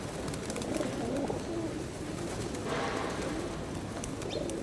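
Pigeons coo in low, soft repeated calls over a steady bed of outdoor background noise, with occasional faint higher chirps from other birds.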